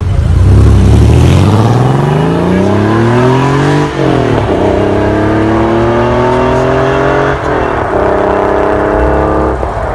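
Porsche 964 fitted with a Fister exhaust pulling hard through the gears, loud and close, engine note climbing in long rising sweeps with brief dips at each upshift, no voices.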